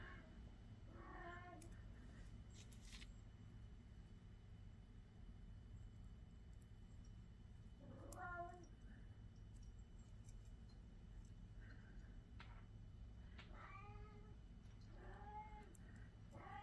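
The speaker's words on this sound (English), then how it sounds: "If you're wondering what's wrong with Rory, my kitty that's yelling over there, there's nothing wrong with him really." Rory, a pet cat, yowls insistently for attention, several drawn-out meows spaced across the stretch over a steady low room hum, fairly clear and close.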